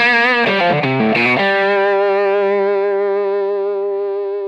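A distorted electric guitar on its bridge pickup, played through a PRS DG T15 amp, plays a few quick notes and then rings out as one long, sustained chord that slowly fades. The tone is saturated and loud.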